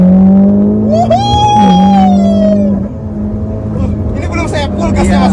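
A fully modified Mitsubishi Lancer Evolution X accelerates hard, its engine tone climbing and falling in loud, close sweeps as the revs rise and the car shifts, with voices talking over it.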